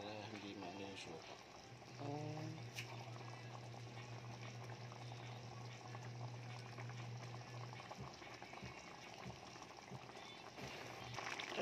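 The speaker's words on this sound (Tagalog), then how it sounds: "Pakuloyin nyo na gusto bago nyo haluin para hindi maano yung suka." Sweet and sour sauce with vinegar, seasoned with salt and pepper, boils in a pan for tilapia, giving a steady bubbling simmer with a low hum beneath and occasional clinks.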